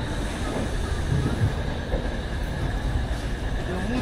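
Himgiri Express passenger train running on rails, a steady rumbling roll with faint metallic hiss and light rhythmic wheel clatter, continuous and fairly close, no voices.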